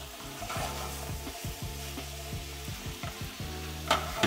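Onions frying in a pan for butternut squash pasta, stirred with a utensil, producing a close sizzle with repeated scraping strokes in a loose rhythm.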